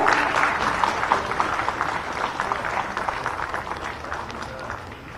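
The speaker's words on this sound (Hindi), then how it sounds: "तालियां आपकी तरफ से जोरदार हो।" Audience applause at a government welcome ceremony in Ranchi, a sustained crowd clapping that stays strong and then slowly tapers off toward the end, heard close with no clear speech over it.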